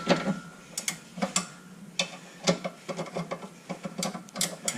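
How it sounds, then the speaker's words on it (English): An 18 mm ratcheting wrench loosens a bolt on a Camaro panhard bar, giving a series of sharp, irregular metallic clicks in short bursts, close and fairly quiet. "I'm going to use an 18 millimeter ratcheting wrench."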